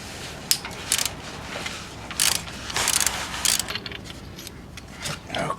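A ratchet turning an 18 mm socket unbolts a motor mount on a Chrysler PT Cruiser, giving bursts of quick metallic clicking separated by brief pauses, close by and moderately loud.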